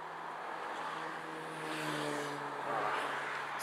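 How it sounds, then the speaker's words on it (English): Road traffic heard from a Triumph Empulse TT motorcycle while lane splitting, a steady broadband rush of wind and nearby car engines with a low droning hum, continuous and moderately loud. "There's so much traffic here, I don't understand."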